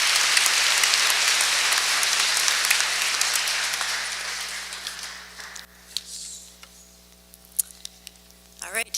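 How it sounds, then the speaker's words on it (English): A graduation crowd at Whistler Secondary School applauds the graduating students, loud sustained clapping that fades out after several seconds, followed by scattered claps and room noise. "I'd like to offer another round of applause to the graduating students"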